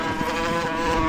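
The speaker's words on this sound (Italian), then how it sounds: "c'è un'ape?" Close, steady buzzing of a bee, a droning whine with a dense stack of tones that holds evenly for about a second with no voices over it.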